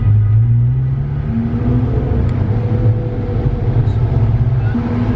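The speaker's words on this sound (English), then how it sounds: "the Cayman track car. Pretty sweet. This thing's loud as hell." A loud Porsche Cayman track car engine drones steadily from inside the cabin, a deep rumbling growl with slight shifts in pitch as it runs.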